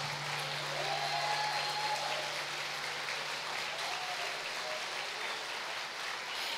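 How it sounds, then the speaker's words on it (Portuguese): Sustained applause from a large audience at a women's church congress, a steady dense wash of clapping filling the hall with no voices on top. "Se for para Jesus, aplauda mais forte"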